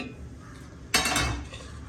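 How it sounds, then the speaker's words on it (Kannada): Grated coconut tipped into a steel mixer jar in a home kitchen, a sudden clattering thud of metal and scraping settling into a softer rustle, close and alone. "ಈಗ ಮಿಕ್ಸಿ ಜಾರನ್ನು ಅದರಲ್ಲಿ ಕಾಯಿ ತುರಿಯನ್ನು ಹಾಕ್ಕೊಳ್ತಾ ಇದ್ದೀನಿ"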